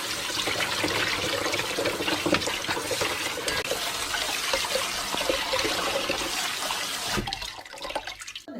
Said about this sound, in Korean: 데친 시금치는 이렇게 찬물에 헹궈서 꼭 한번 짜줍니다